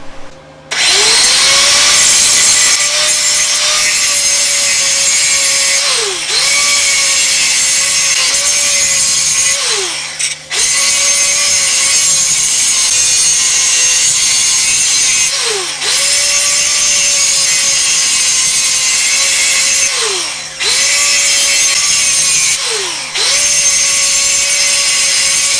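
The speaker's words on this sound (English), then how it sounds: "I'm going to grind that down a little bit." An angle grinder works down metal on a Detroit Diesel 6-71 engine cradle, a loud continuous whine in several long passes of about five seconds each, briefly dropping in pitch between passes.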